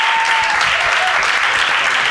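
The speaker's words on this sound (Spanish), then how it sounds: "un aplauso para la ruina de Ana Polo" Loud, dense audience applause in a comedy podcast recording, continuous clapping from start to finish with no pauses.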